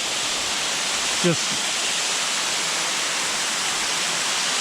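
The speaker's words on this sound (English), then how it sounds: "this waterfall, it's like a waterfall like the whole way up the trail" A waterfall beside a hiking trail roars as a loud, constant white-noise rush throughout, with a man's brief word heard over it.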